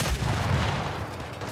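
A single loud, close, rumbling frag grenade explosion in Gears 5, broad and sustained across the short moment without separate bangs; no voices.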